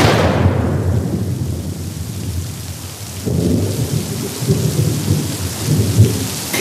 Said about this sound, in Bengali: দুদিন পর আজ আবার ঝড় শুরু হয়েছে বিকেল থেকে।